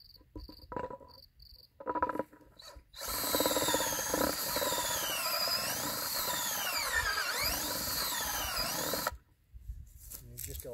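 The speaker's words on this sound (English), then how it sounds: "You go in the same holes that you drilled before." A power drill whirs steadily for several seconds after a few short scrapes and knocks, its pitch wavering as it bores soil sample holes into the ground.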